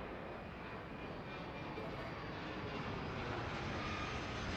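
Jet airliner taking off in the game Airport Madness World Edition, a continuous, even engine roar that stays at a steady moderate level throughout.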